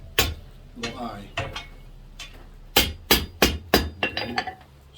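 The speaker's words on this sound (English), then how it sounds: "rotating the piece and the hammer to close that little eye" Hammer blows on a firepit poker being forged on an anvil: a few spaced strikes, then a quick run of sharp metallic hits in an irregular rhythm, close and loud.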